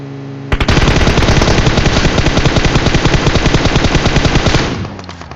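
Sustained rapid automatic gunfire in PUBG Mobile, a loud continuous burst of dense shots lasting several seconds before cutting off and tailing away.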